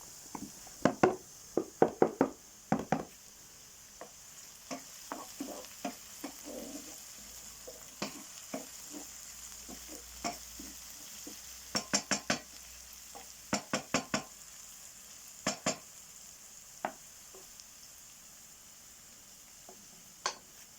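Onions fry in a pan on a wood-fired kitchen stove and are stirred now and then. Sharp utensil clicks and scrapes come in irregular bursts over a faint, low sizzle.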